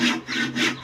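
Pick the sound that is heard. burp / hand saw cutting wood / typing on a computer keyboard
hand saw cutting wood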